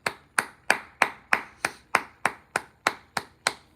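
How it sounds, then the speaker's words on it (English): Twelve sharp hand claps in a steady, even rhythm, each a crisp isolated slap with a quick decay, close and clear with no voices. "Jason Garrett clap."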